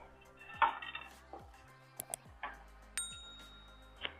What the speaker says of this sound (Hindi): अब इन मसालों को ड्राई रोस्ट करते हैं।